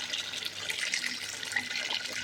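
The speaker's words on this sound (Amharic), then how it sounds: "ውሃ አፍልቼ ጨምርበታለሁ ዶሮን እስከሚሸፍን ድረስ" Boiled water pours into a pot over chicken, a steady, close splashing stream that runs unbroken for about two seconds.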